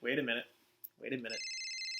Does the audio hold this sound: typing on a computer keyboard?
no